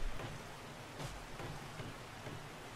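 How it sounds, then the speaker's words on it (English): Constant rain falls in the survival video game 7 Days To Die, a steady soft hiss of drops with a few faint thumps, alone and even in level throughout. "Since it's always raining"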